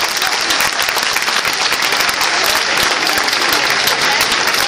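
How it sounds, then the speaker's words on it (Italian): An audience at a flamenco show claps in sustained, dense applause, loud and steady throughout with no talk over it. "un bel applauso, grazie."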